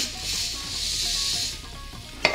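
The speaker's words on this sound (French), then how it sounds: "Versez-y les perles de tapioca ou du Japon." Tapioca pearls are poured into a pot of boiling water, giving a steady hiss and rattle that fades out, followed by one sharp click near the end.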